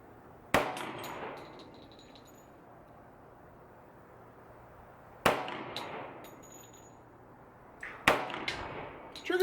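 Three sharp, loud 10mm pistol shots from a Hi Point JXP 10 at an outdoor range, spaced several seconds apart, each with a short decaying echo over quiet background.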